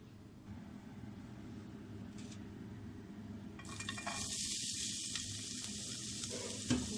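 Onions hit a hot pan for a mixed vegetable dish. A quiet background gives way partway through to a loud, steady, close hiss of frying that continues to the end, with a faint clink near the finish.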